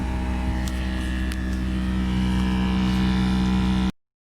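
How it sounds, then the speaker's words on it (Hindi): A 2013 Nissan Sunny's AC blower fan, vibrating, drones steadily with a constant low hum and buzzing tone, no voices, then cuts off abruptly. "गाड़ी का वाइब्रेशन कर रहा था, ब्लोवर बहुत ज़्यादा और साउंड कर रहा था।"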